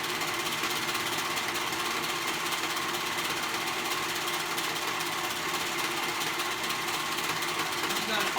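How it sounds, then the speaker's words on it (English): A sewing machine runs nonstop while stitching the sleeve and side seam of a fairy jacket, two fabric layers placed right sides together, producing a loud, steady mechanical whir from start to finish. "I'm gonna go ahead and sew this right here on the side, the edge, the sleeve and the side."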